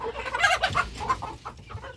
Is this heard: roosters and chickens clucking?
yes